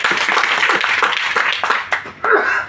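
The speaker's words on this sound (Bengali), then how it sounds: "জোরে একটা হাততালি চাই।" A seminar audience clapping, a dense burst of loud, close applause from many hands that dips briefly before surging again.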